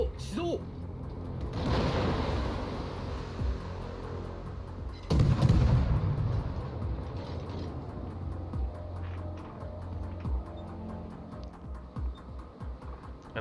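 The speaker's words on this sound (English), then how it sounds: "Gonna go on ahead, throw some shots out there on the Des Moines." Harugumo destroyer's guns firing at a Des Moines cruiser in a naval battle game: two heavy booming volleys a few seconds apart, with lighter shot noises and rumble in between, while someone talks over them.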